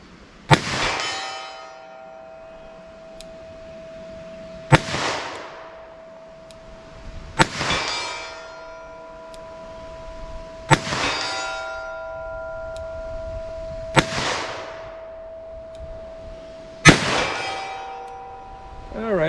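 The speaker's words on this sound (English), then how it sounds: "my 686 4-inch barrel, 38 special. Just kind of hold right on it" A Smith & Wesson 686 .38 Special revolver with a 4-inch barrel fires six spaced shots at steel targets 75 yards away; each sharp report is followed by a ringing metallic clang that hangs and decays over a couple of seconds.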